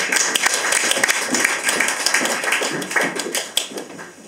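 A concert audience breaks into steady applause, a dense fast patter of many hands clapping at close range for several seconds.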